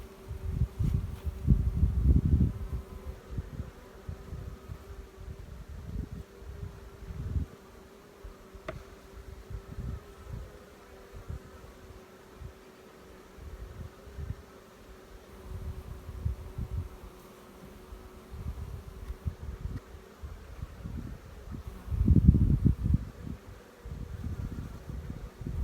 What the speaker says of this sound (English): I'm looking at 6 to 7 frames of bees up here.